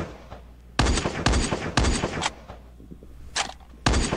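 Gunfire in the Free Fire battle royale game: sharp, loud bursts of shots that repeat at short intervals with brief quiet gaps between them, and no talking.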